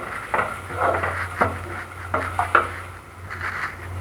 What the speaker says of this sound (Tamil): தேங்காயும் சேர்த்து நல்லா வறுத்து வச்சுருங்க